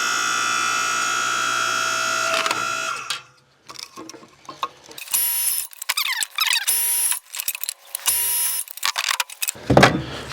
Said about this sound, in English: I'm gonna split a little bit of kindling here